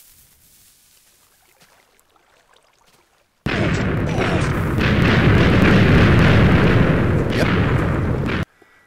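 Explosions in a Minecraft survival map, a sudden loud, dense blast and rumble that starts abruptly after quiet and roars continuously for about five seconds before cutting off; a brief spoken word comes before it.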